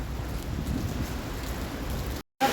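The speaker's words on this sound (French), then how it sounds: "Ça, c'est le Brisbane Be Like, quoi. Juste, il pleut." Steady rain falls in Brisbane, Australia, a dense even hiss of drops on surfaces, close and continuous, ending in a short abrupt silence.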